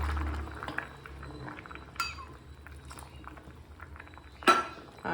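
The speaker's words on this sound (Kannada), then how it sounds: "ಇವಾಗ ಕಾಳೆಲ್ಲ ಚೆನ್ನಾಗಿ ಬೆಂದು, ಖಾರನೂ ಬೆಂದು, ಎಲ್ಲ ಚೆನ್ನಾಗಿ ಸಾರು ಕುದೀತಾ ಇದೆ." A pot of village-style cowpea (alasande) saaru simmers quietly, with soft bubbling under occasional metal utensil clinks and one sharper clatter near the end.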